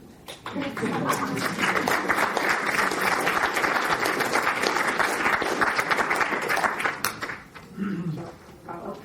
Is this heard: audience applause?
yes